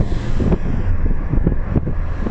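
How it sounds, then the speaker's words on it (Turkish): Wind rushing into the cabin of a moving 2004 Opel Corsa 1.3 CDTI (70 hp, five-speed manual), a steady close roar with low engine and road rumble underneath, no talk. "Ya rüzgar sesi içeri geliyor."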